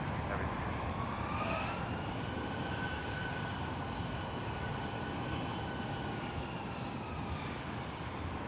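Boeing 747 departing San Jose Airport, a broad continuous engine roar with a faint sweeping whine that shifts slowly in pitch, moderately loud and steady from start to finish.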